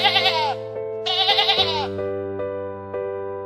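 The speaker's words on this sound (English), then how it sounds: "This is a sheep." A sheep bleats twice, loud and close, each wavering cry lasting about half a second, over a sustained musical tone that carries on afterward.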